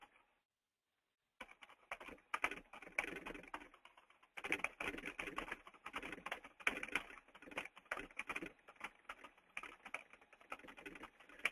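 Rapid typing on a computer keyboard starts after a brief silence, with dense, irregular key clicks heard close up and at a steady moderate level, pausing once before continuing.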